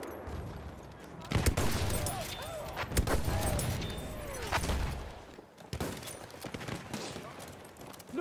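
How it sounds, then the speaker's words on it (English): Enemy machine gun fire in a video game: rapid dense gunfire bursts and thuds over a noisy battlefield, with voices shouting and talking throughout. "Look out! Machine gun!"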